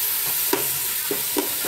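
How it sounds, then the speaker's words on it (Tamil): Tomatoes sauté for mutton biryani with a constant hiss of sizzling oil in a pan, broken by three short scraping strokes of a spoon, close and fairly loud, with nobody speaking. "தக்காளியை போட்டு நல்லா வதக்குறோம்."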